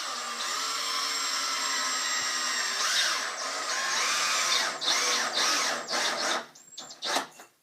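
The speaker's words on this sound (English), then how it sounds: "Take this piece of wood and place it 35 centimeters away from the 17 centimeters and screw it on with 2 screws." Power drill driving screws into a wooden board: a high, steady whine that wavers in pitch, close and loud, breaking into short bursts near the end.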